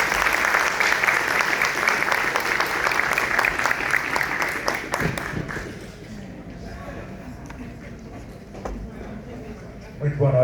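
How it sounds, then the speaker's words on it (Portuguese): Audience applause at a general assembly of cultural, recreational and sports associations, dense and loud for about five seconds, then fading into scattered claps and room murmur before a brief swell near the end. "uma salva de palmas"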